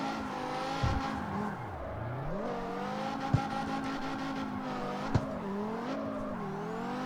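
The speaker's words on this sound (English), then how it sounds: "I might have accidentally built one of the best drift cars in this game." Drift car in a driving game with a swapped engine, its revving engine note rising and falling steadily as tires squeal through slides, with a couple of sharp clicks partway through.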